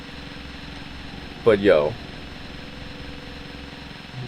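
A chainsaw engine idles steadily in the video game Silent Hill, a low, even, throbbing drone that runs through the whole moment while someone briefly speaks over it.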